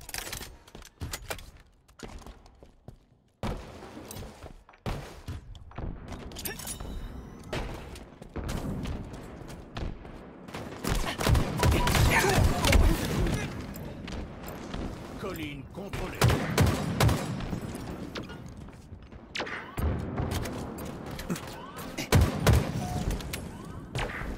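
Gunfire from Halo Infinite ranked multiplayer, with bursts of shots and heavy thumps coming in clustered volleys, loudest midway, mixed with game effects and intermittent talk.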